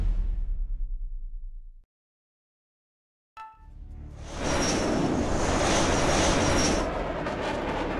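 A jet fighter engine spools up before takeoff in the game H.A.W.X 2: after a low rumble and a gap of silence, a broad, roaring whoosh swells in and holds steady and loud with a faint high whine on top.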